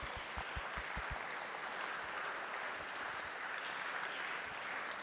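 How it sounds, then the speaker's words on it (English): Audience applause closing a session at an urban mobility conference, a steady wash of many hands clapping that fills the room at moderate level, with a few low thumps near the start and no talking. "I invite the audience to thank you also by an applause"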